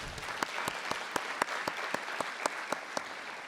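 Sparse audience clapping at a school district address: a few distinct claps land in a steady, even beat over a soft background of wider applause, fairly faint overall.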